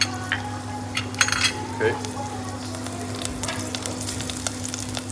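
Shallot frying in extra virgin olive oil in a pan for risotto, a steady close sizzle with light clinks of utensils, and a voice briefly speaking over it.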